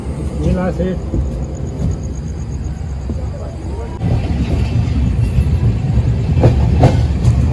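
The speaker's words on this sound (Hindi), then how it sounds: "5 मिनट के हॉल्ट के बाद दोबारा ट्रेन चल चुकी है नजीबाबाद रेलवे स्टेशन से" A train rumbles along steadily on the Haldwani to Dehradun route, pulling out of Najibabad station after a halt, the noise swelling partway through as it picks up, with faint clatter of wheels on rails.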